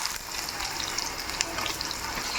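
Raw banana pieces frying in peanut oil, a dense, crackling sizzle with scattered sharp pops, steady and close, with no talking.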